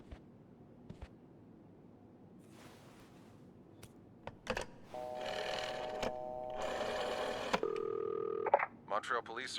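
Telephone keypad dialing in the horror video game This Bed We Made, a run of steady electronic tones after clicks and rustling, fairly close and clear, with no talk over it.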